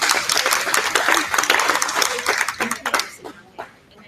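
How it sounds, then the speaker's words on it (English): Children and adults at a 4-H Clover Kids show and tell at a county fair clap in a brisk, uneven round of applause that fades out after a few seconds, with faint chatter beneath. "Let's give him a round of applause."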